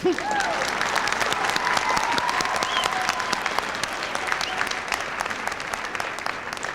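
Steady, loud clapping fills a hall as a graduation crowd at the Art Institute of Seattle honors a graduate, continuous dense applause with scattered faint voices and a brief whoop underneath.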